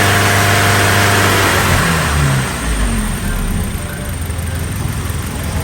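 A car engine runs loudly during a catalytic converter cleaning service, humming steadily with a rev near the start before settling down as the engine winds toward shutdown, with no talk over it.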